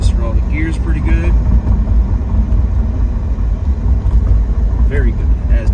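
A low-mileage 1991 Chevrolet Camaro Z28 1LE with a five-speed manual drives on a track, its engine a steady loud rumble with road and wind roar throughout while someone talks over it.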